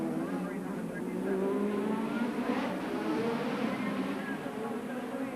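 Formula 1 cars of the 1987 Monaco Grand Prix race around La Rascasse, a steady high engine whine droning continuously at moderate distance beneath a commentator's voice.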